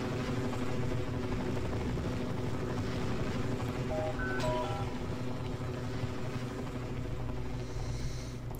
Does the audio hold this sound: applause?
no